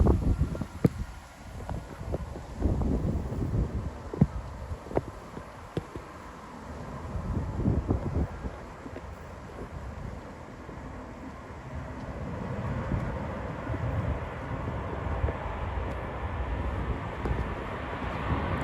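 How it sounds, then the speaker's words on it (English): Beijing Airlines Airbus A330 in a special livery taking off from Manchester, a distant, steady jet engine roar with wind buffeting the microphone, faint and rumbling throughout. "Taking off now is a Beijing High Manchester livery A330"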